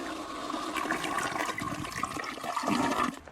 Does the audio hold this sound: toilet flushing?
yes